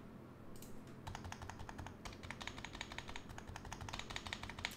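Fast typing on an HHKB keyboard fitted with 65g Zealios switches, a dense, quiet run of clacking keystrokes close by with no talk.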